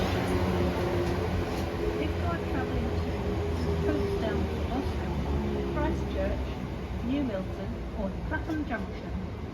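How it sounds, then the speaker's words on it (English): A Southwestern Railway class 444 train pulling out of the station at Upwey, a continuous low rumble and rolling drone with faint tonal squeals, steady and fairly close throughout. "Departing out now is the 1324 Southwestern Railway service"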